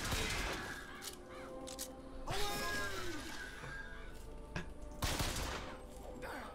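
In Bioshock Infinite, an enemy turns into a flock of crows: harsh cawing and fluttering bursts come in several waves over dense game noise. Sharp blasts sound at the start, midway and near the end.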